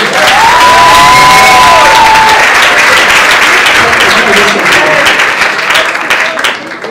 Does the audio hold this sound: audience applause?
yes